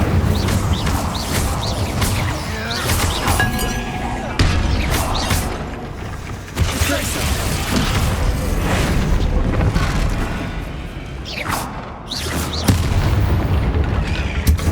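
A run of booming fire-spell blasts and impacts from Hogwarts Legacy, including Incendio, hits in repeated loud bursts over rumbling ambience.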